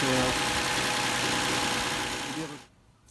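A 2004 Toyota Avalon engine runs loudly and steadily with a low rumbling drone during radiator replacement, then cuts off abruptly near the end, leaving near silence.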